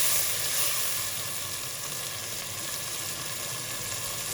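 Minced meat (keema) for pulao frying in oil in a pan gives a continuous, fairly loud, hissing sizzle that holds steady throughout with no voice.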